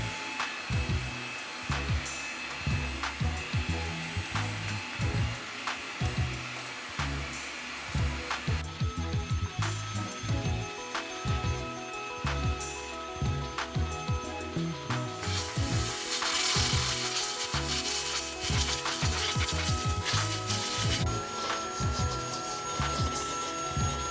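A Fanttik Slim V8 cordless handheld vacuum runs in blowing mode, giving a steady, loud, whining motor drone with rushing air that shifts pitch partway through and continues without talk.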